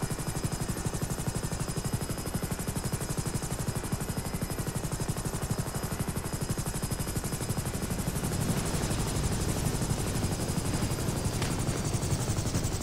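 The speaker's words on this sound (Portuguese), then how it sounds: "O helicóptero é meio lerdo, né?" A helicopter in the GTA V video game drones steadily throughout with a dense, rapid rotor chop and a constant engine whine, loud and close, with no voices.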